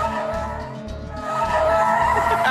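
A car brakes late and skids toward a stop box after a Roadkill project-car shootout run, tires squealing loudly and steadily over about two and a half seconds beneath a low engine rumble.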